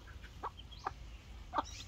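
A mother hen clucks three times in short, separate bursts, fairly close, over a quiet outdoor background.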